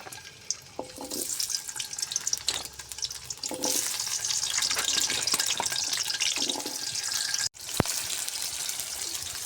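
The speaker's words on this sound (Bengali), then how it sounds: "আলুগুলো হালকা করে লাল করে ভেজে নেব।" New potatoes frying in hot oil in a wok, a steady close hiss and crackle with watery spattering, loudest in the middle, broken briefly by a short gap near the end.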